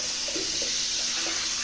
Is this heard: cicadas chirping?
no